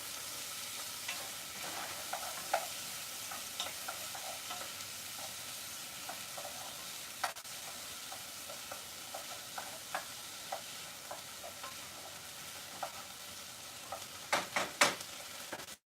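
Food sizzles in a pan as a wooden spoon stirs it, a steady frying hiss with soft, scattered scraping taps throughout and a few louder knocks near the end.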